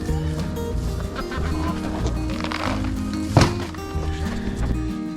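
Chickens cluck in a farm coop in winter, a dense overlapping chorus of soft clucks close by, with one sharp squawk standing out midway.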